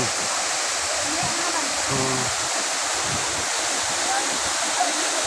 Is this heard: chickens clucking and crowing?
no